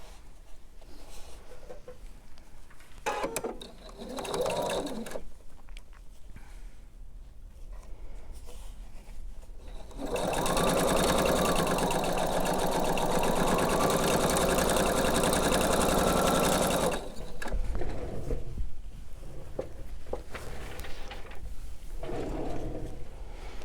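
A sewing machine stitches a quilt sampler in one steady run of about seven seconds, loud and close, with quieter handling noises and short pauses before and after and no talk.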